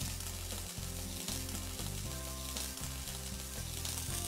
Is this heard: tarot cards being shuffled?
no